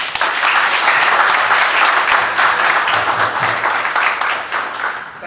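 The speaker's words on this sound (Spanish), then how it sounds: "Me parece que merecen un fuerte aplauso" An audience clapping at an advanced technology seminar, a loud, dense and sustained round of applause that stays even throughout with no voices.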